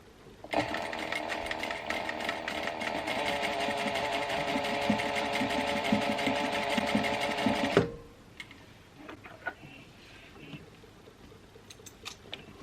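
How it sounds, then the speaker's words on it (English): A sewing machine stitches across the end of a fabric strap for a prom dress and back tacks, running in one steady loud whirring burst for about seven seconds, then stopping into quiet handling noises. "Snip this end, sew across the end, and back tack."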